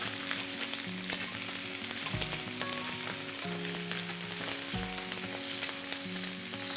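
Chicken pieces fry in a pan with a steady, close sizzle and crackle, broken by a few brief clinks and stirring knocks from utensils, with no voices.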